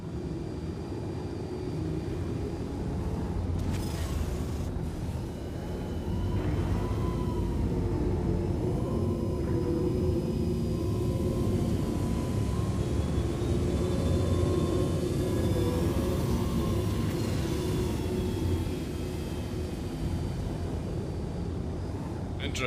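A jet aircraft engine with afterburners in a video game roars as a steady, loud broadband drone with a whining tone on top, continuous throughout with a slight swell partway and no talking.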